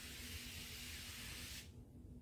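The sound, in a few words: spraying Spray Away cleaner on a mirror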